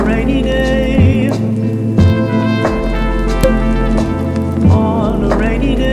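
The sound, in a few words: artificial rain in a Seoul café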